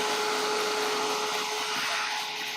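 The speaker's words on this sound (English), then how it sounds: "So I'm going to take my dryer to this." A handheld craft heat or drying tool blows steadily over a stamped and stenciled Christmas craft project, giving a continuous close whooshing airflow with a faint tonal whine and no talk.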